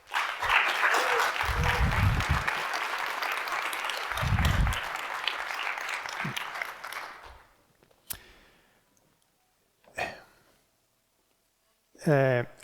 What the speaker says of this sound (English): please give them a great round of applause as well, Anime Genesis